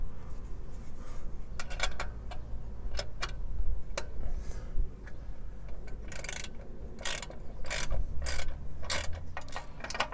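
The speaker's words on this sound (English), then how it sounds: "Take the extended 1/2 inch socket on the 3/8 drive and tighten it up." A ratchet on a 3/8-inch drive with an extended 1/2-inch socket tightens a front shock bolt on a 2005 Ford Ranger 3.0L, giving close, crisp clicking bursts at an irregular pace with no talking.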